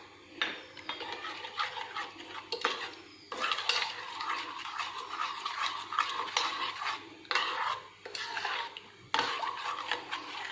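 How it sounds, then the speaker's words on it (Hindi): A spoon stirs crushed biscuit powder into half a cup of cold milk, scraping and clinking against the cup in uneven bursts with short pauses, close and clear. "इसमें इस पाउडर को, बिस्किट के पाउडर को डाल के घोल लेंगे।"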